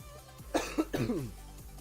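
A short cluster of two or three close, harsh coughs, fairly loud and alone, with a soft throat sound trailing after.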